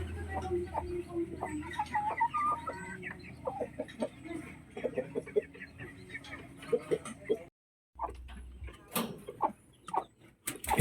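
Rhode Island Red and white native chickens cluck in a farm setting, with repeated short calls and scattered bird noises, fairly close, broken by a brief silence near the middle.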